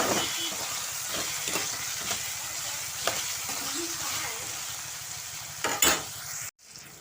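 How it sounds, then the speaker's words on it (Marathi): Eggplant softened under a lid sizzles steadily in a pan as it is stirred and sautéed, with repeated scraping strokes over a continuous close fry before a brief pause near the end. "तर व्यवस्थित परतून घेते"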